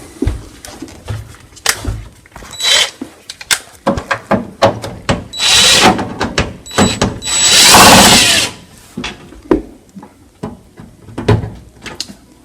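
Screws come out of the top of a GE Profile microwave with a power driver, close up: short whirring bursts alternate with clicks and metallic clatter, including two longer buzzing runs, and no speech.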